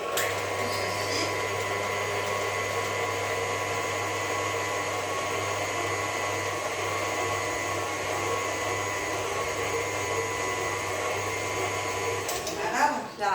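An electric mixer runs at a steady, even whine as it blends cake batter of eggs and flour, close and continuous, and cuts off near the end with a brief clatter.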